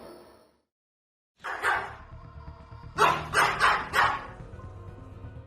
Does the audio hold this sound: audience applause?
no